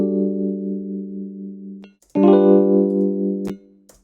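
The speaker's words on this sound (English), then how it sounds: "we're just going to be comparing the raw Rhodes sound" A Rhodes electric piano plays a sustained chord that rings for about two seconds, then after a short gap a second bright chord sounds and holds, ending in a few soft clicks; no voices.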